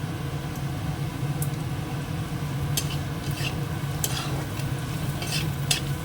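Oil sizzles steadily in a pan as whole garam masala spices fry, a soft continuous frying hiss with occasional light clinks and stirring scrapes.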